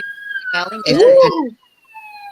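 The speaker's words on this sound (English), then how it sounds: "if you can hear the sirens, I do apologise." A siren wails in the background, a long steady tone rising and falling, partly under a burst of talk and then continuing faintly alone.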